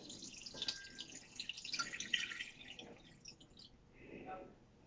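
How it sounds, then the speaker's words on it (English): Water is poured down the side of a pot around a pudding bowl for a holiday pudding, a soft, faint trickle and splash that comes and goes, with a voice speaking quietly over it. "I'm going to add enough water down the side so that it comes up about 1 inch on the bowl"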